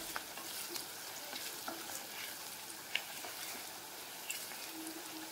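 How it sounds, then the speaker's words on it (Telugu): Onions frying in a pan with salt, a steady close sizzle with occasional faint clicks of stirring, no voices. "ఇలా ఈ ఉల్లిపాయలు బాగా ఫ్రై అయ్యేంత వరకు ఫ్రై చేసుకోండి"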